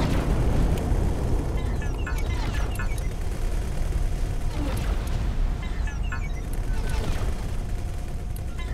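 Explosions in the space game X4: Foundations, a run of rumbling booms and bursts under a steady low drone, with crackling debris and sharp pops spread across the whole stretch.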